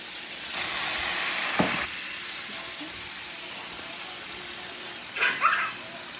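Water is poured into a pan of sizzling chicken korma over a lowered flame. A loud hiss and crackle of frying swells and fades, followed by quieter simmering and a few brief close clinks near the end.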